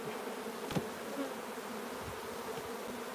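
Honey bees buzz around hive frames near the listener, a steady insect drone with a few sharper close passes and light handling knocks.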